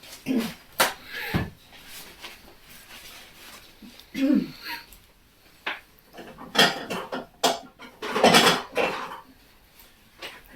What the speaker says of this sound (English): I'm just going to have to wipe those lids.